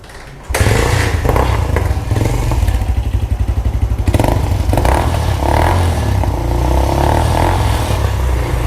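A Suzuki GS150 converted into a brat bike with a modified exhaust starts up and idles loudly nearby, its exhaust giving a deep, steady, rapid thumping burble.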